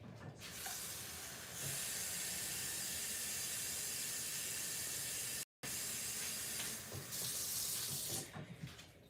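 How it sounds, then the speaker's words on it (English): Tap water running steadily into a pot of simmering turkey necks, a close hissing stream lasting several seconds with a brief cut in the middle and no voices. "I'm gonna put some more water in there."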